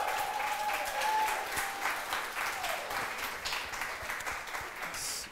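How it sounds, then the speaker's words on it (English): An audience at an intern and creative careers talk applauds a panel with sustained, dense clapping for several seconds, loud and close throughout. "Round of applause, please."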